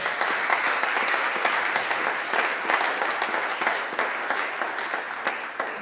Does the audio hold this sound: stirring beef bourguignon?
no